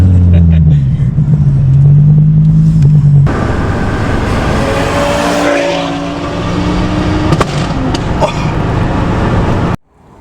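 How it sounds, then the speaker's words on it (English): Tuned five-cylinder engine of a 530 bhp Ford Focus ST heard from inside the car during a ride, a loud deep rumble that surges and shifts pitch, with voices talking over it before it cuts off abruptly. "tuned 5-cylinder engine"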